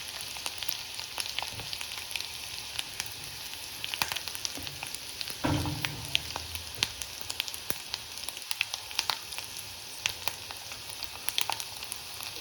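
Mustard, cumin and fennel seeds fry in hot oil with a continuous close sizzle. Sharp popping crackles are scattered throughout, and a brief stirring scrape comes midway.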